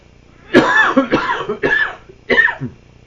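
Four harsh, close coughs in quick succession, each short and loud with brief pauses between.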